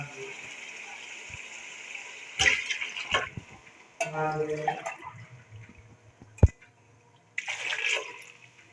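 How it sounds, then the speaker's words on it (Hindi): Water is poured into a cooking pot of desi chicken, roughly a kilo added in a few splashing, gushing bursts with gaps between them. A steady background hum runs throughout. "ये मेरे पास पानी है, अब हम इसमें ये शामिल कर देंगे"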